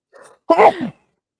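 One sharp human sneeze, a soft intake followed by a loud explosive burst, close and alone in a quiet room during a live online football chat.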